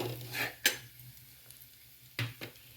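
Stirring in a pan as crushed peanuts go into sizzling sweet-sour panchamrut, with a few sharp metallic spoon scrapes and clinks between quieter moments, close and fairly soft.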